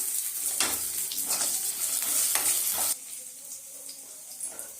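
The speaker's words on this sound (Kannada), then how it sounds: "ಮತ್ತು ಒಂದು ಗಡ್ಡೆ ಬೆಳ್ಳುಳ್ಳಿ ಇದನ್ನ ಚೆನ್ನಾಗಿ ಫ್ರೈ ಮಾಡ್ತಾ ಇದ್ದೀನಿ" Garlic frying in a pan for a garlic rasam, with a steady bright sizzle and a few stirring scrapes, loud at first and then settling to a quieter hiss.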